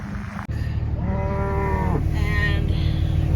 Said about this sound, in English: And cows are doing good this morning.